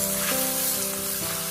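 Clams stir-frying over high heat in broth in a wok, a steady close sizzle with faint stirring scrapes and no voices.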